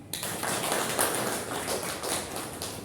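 Applause from an audience at the close of a school lesson on the spread of Islam, a dense, even patter of many hands clapping, close and continuous for a few seconds.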